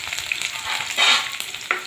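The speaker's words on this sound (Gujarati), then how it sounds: "ત્યાં સાદા મરચાં નાખીશું." Green chilies dropped into hot oil already crackling with mustard seeds and cumin, a steady close sizzle with stirring scrapes and a brief louder flare of frying.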